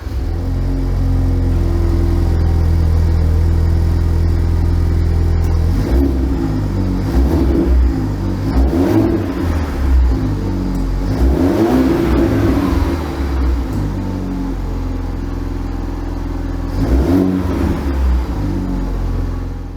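The 2.3-liter four-cylinder of a 2021-2022 Ford Bronco idles low through a 3-inch MBRP exhaust, then revs several times with a deep, rising roar between steady idle stretches, close and loud with no talk.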